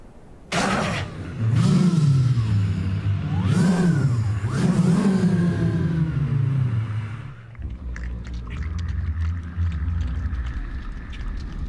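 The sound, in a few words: Honda car engine revving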